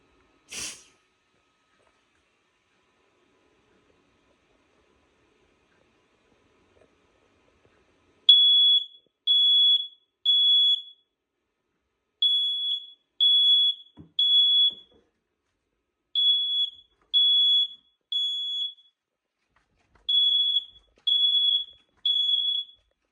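A BRK 2002 photoelectric smoke alarm sounds in repeated groups of three sharp, loud high-pitched beeps separated by short silences, in an otherwise quiet room with a faint click early on.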